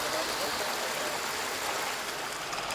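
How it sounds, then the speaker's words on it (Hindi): Water rushes steadily through trout farm canals, a constant broadband flowing hiss with no breaks, moderately loud and close. "ट्राउट मछलियां क्योंकि बहते ठंडे पानी में रहती हैं, इसलिए नहरों में पानी लगातार बहता रहता है।"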